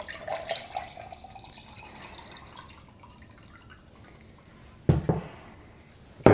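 Water poured from a container into a British Army 24-hour ration meal pouch, a steady splashing trickle that fades, followed by a couple of louder bumps and handling knocks near the end.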